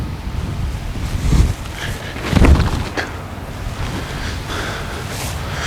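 Wind blowing across an open field where discs are being thrown, a steady buffeting rush against the microphone with a few stronger gusts, loud and close.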